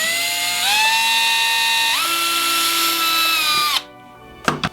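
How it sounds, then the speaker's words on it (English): A power drill with a 1/8 inch bit bores a hole in a plastic Fisher-Price See N' Say toy: a steady high whine that rises in pitch twice, then stops, with a few clicks after. "I'm just going to drill the hole."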